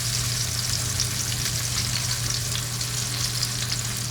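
Salmon fillet pan-fries over a medium-high flame with a steady, close sizzle and crackle of hot oil, continuous and even, with no talking.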